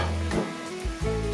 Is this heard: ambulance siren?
no